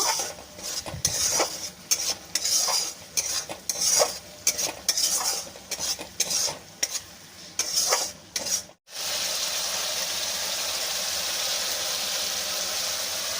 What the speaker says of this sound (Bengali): এবার আমি এইভাবে ভালো করে মিশিয়ে নেব।